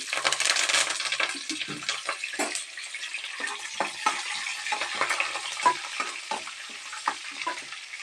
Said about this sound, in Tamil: கடுகு உளுந்து நல்லா பொரிஞ்சிச்சு